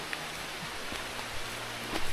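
Steady rain falling in a forested, rural stretch of Arunachal Pradesh, a dense even hiss with scattered drops pattering close by, continuous and moderately loud with no voices.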